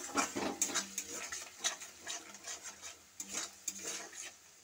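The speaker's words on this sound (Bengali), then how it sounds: "অল্প একটু জল দিয়ে আমি এটাকে নাড়তে থাকবো ভালো করে যতক্ষণ না তেল ছাড়ছে।" Spice paste with a splash of water being stirred in a pan while cooking down for a Bengali posto potol dish, a steady run of quiet scraping strokes and light clinks of the spoon against the pan, close and soft, with no talk.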